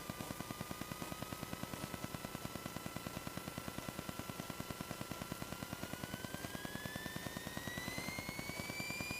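A light aircraft engine drones at full power for a night takeoff, a steady rapid propeller pulse heard from inside the cabin with a tone that slowly rises as the revs build.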